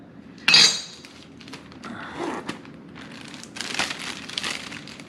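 Cut beef for shashlyk is dropped into a plastic bag, starting with a sharp crinkling rustle followed by softer rustling and handling noises, close by with no talk.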